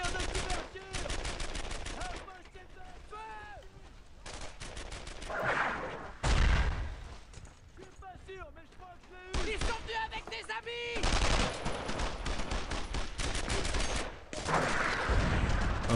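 Covering gunfire in the Brothers in Arms: Earned in Blood WWII shooter, with repeated loud bursts of rifle and machine-gun fire in rapid volleys, some separated by short pauses, mixed with game music and occasional voices.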